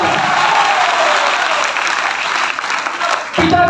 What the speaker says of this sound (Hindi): तालियों के साथ हमारे सर का इस चंपारण में।